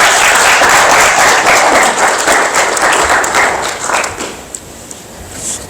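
An award ceremony audience claps warmly for a youth award recipient at the Unam patriot awards, loud dense applause that thins out and fades to scattered claps over the final second or two.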